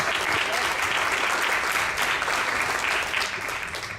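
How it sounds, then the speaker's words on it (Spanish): An audience at a security conference applauds to open a talk, with steady, dense clapping filling the room for several seconds before it begins to fade. "Por favor, démosle un fuerte aplauso para iniciar."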